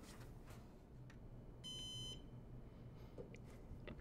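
A Synology-style NAS loaded with 24TB IronWolf Pro drives gives a single short electronic startup beep on boot, clear over a quiet room hum, with faint clicks around it.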